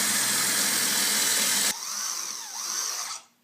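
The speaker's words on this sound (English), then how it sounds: "I'm going to drill this end." A power drill whines loudly at a steady pitch, then drops and slows with shifting tones as it bores a pocket hole through a wooden face frame before cutting off.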